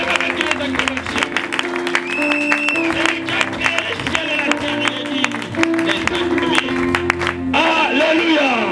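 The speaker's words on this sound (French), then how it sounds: "Est-ce qu'il y a quelqu'un qui peut acclamer pour l'éternel?" Church congregation clapping, cheering and shouting in praise during a worship service, a busy mix of applause and raised voices with music-like tones underneath, steady and loud throughout.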